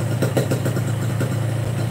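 Two-stroke motorcycle engine with a racing exhaust idling steadily, a close, loud, buzzing low drone with a slight rhythmic flutter and no voices.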